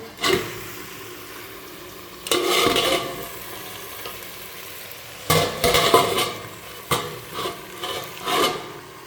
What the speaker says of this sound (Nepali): एकपटक म फेरि चलाउन गइरहेको छु।